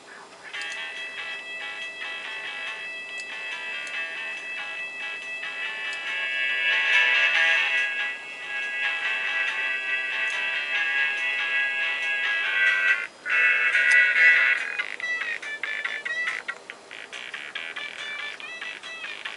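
A song as a MIDI file playing in real time on a Sound Blaster 16 CT1740 card in a Compaq Presario 433, thin synthesized tones with a steady beat at moderate volume.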